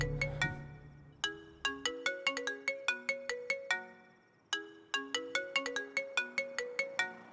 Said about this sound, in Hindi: उसका ही फोन है